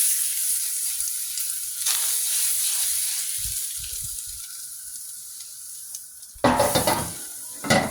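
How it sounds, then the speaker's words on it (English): Garlic and ginger hiss in a very hot pan for chicken and shrimp chop suey, a steady close sizzle that dips midway, then a sudden louder burst of frying and stirring near the end. "Gonna add some garlic, not too much."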